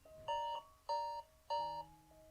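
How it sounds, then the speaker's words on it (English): In the game Finding Paradise an electronic alarm clock rings in three clear, evenly spaced bursts of bright melodic beeps, with a softer lower tone trailing at the end. "My bad. Had an alarm set."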